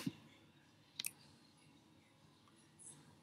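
A few quick, faint computer mouse clicks on a Mac, with a sharp tap near the start and a brief double click about a second in, over quiet room hiss.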